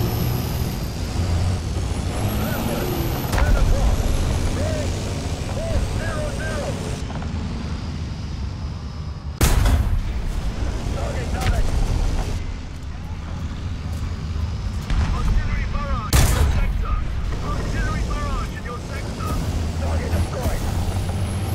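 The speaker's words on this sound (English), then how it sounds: "Several arty strikes get called on my position, so I have to back off for a moment." Video game artillery strikes land around a British Vickers Mk.11 tank, two sharp heavy impacts near ten and sixteen seconds cutting through the steady engine rumble and air-brake-like hiss, with a voice talking throughout.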